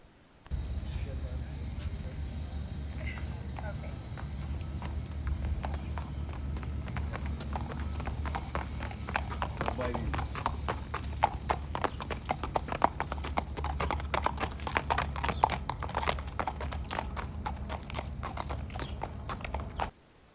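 Racehorse's hooves clip-clopping as it is led out of the stable, a steady walking rhythm of sharp hoof strikes on a hard surface, close and clear over a low background hum.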